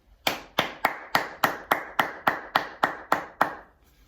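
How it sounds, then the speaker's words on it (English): About eleven sharp, evenly spaced claps ring out in unison, a group of children at a school assembly clapping together in a steady rhythm before stopping. "Everyone ready with their clap?"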